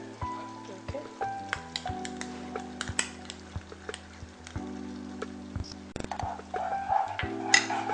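Butter sizzling in a pan at the start of a white sauce in a home kitchen, a soft steady hiss broken by clinks and scrapes of a utensil against the pan, faint and close, with no talk over it.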